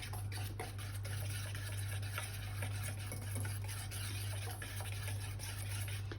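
Lemon glaze for almond lemon muffins being stirred in a bowl, a soft steady swishing and scraping close up over a constant low hum.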